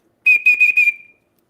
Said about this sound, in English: Somebody asked me if my whistle actually worked the other day.